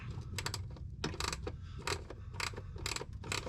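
A small ratcheting wrench snugs up the mounting bolts of powered light-up running-board steps on a Ford F250/F350 truck, giving short bursts of quick clicking repeated about six times, close and moderately loud.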